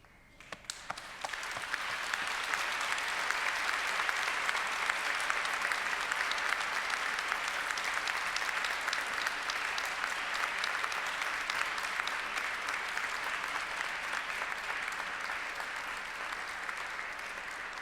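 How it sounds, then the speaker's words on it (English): A graduation ceremony audience breaks into a long, sustained round of applause, dense clapping from a large crowd that swells within the first couple of seconds and holds steady before easing slightly toward the end. "round of applause."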